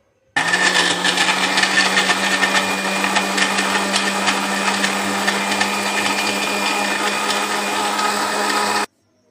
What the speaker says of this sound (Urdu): اب اس کو بلینڈ کرتے ہیں.